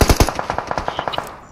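Rapid automatic gunfire from the PUBG Mobile video game, a tight burst of about a dozen sharp shots in quick even rhythm, loud and close with no talk over it.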